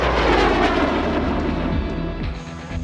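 A Dassault Alpha Jet trainer aircraft flies past, a loud jet roar that slowly fades with a shifting engine tone, close and without speech.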